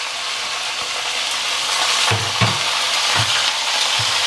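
Ginger, curry leaves and onion fry in a large wide pan, giving a loud, steady hiss of hot oil with several spoon scrapes and stirs partway through.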